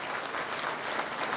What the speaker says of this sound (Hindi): तो जरा नरेंद्र मोदी जी को भी बधाई की जोरदार तालियां होना चाहिए।